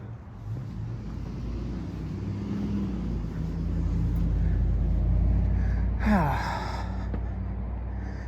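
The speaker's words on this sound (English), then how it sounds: "Because there's cars and shit." On a street at night, a car passes with a broad, rising and fading road rumble that peaks midway. A brief sharp sound cuts in near the end.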